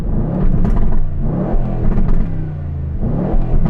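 An Aston Martin engine revs hard at a drag racing meet, loud, close throttle blips rising and falling in quick repeated surges with no speech.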